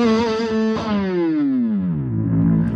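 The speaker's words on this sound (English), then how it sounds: "octave effects, several octaves up or down," A bass through a pitch-shift pedal (PS6) set for octave shifting, a held, heavily processed note sliding gradually downward by octaves in one long distorted sweep, loud and solo.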